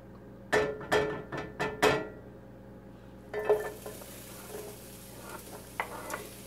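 Onions hitting hot rendered fat in a pan for a low-carb bacon and Brussels sprouts dish: a few loud clattering knocks and drops, a pause, then a soft, steady sizzle with scattered small taps close by.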